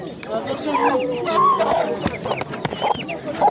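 Chickens clucking amid the bustle of a poultry market, with scattered calls and squawks over steady crowd noise, and people talking nearby throughout.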